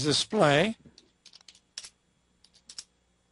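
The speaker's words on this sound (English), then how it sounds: "Having trouble typing in here." Someone types on a computer keyboard after a brief vocal sound, with sparse, irregular clicks of keys that are close and fairly faint.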